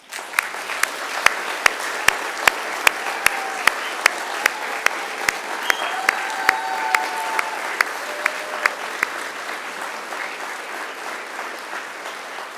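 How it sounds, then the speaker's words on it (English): Graduates at a Macquarie University graduation ceremony applaud their families and friends, a steady wash of clapping from a large hall crowd with sharp regular percussive hits cutting through, fading out toward the end. "And now it's time to give them a mighty round of applause."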